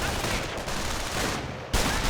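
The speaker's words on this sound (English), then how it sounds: "incoming gunfire" Dense battlefield gunfire from Company of Heroes, a continuous loud fusillade of rifle and machine-gun fire with a sharp burst near the end.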